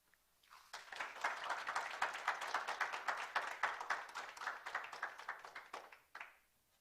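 Sustained applause from an audience at a City College press conference rises quickly, holds as a dense, steady wash of many hands clapping for several seconds, then tapers off and ends with a few scattered claps.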